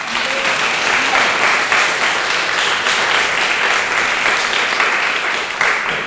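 Audience applause welcoming the speakers at a lecture on Marxism, a dense and steady clapping from a sizable crowd that carries loudly and evenly throughout.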